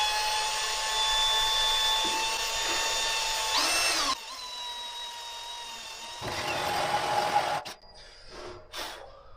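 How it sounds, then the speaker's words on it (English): A drill whines steadily with a hole saw cutting metal, lubricated with cutting oil, pausing briefly before resuming with grinding bursts; no voices. "Drill slow when using a hole saw and use cutting oil."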